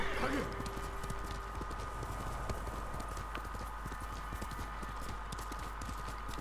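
Horse hooves clip-clopping in a steady, rapid rhythm while riding through the game Ghost of Tsushima, heard over a constant low rumble with a faint whinny near the start.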